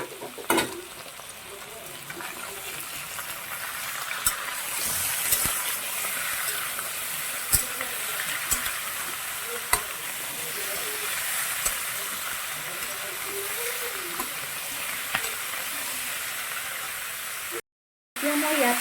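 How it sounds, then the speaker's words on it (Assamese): Chicken meat fried in a pan for an Assamese-style papaya chicken curry gives a steady close sizzle and hiss, broken by scraping stirs and occasional clinks, with a brief dropout near the end. "এতিয়া ইয়াতে মই মাংসখিনিও একেলগে অকণমান ভাজি ল'ম।"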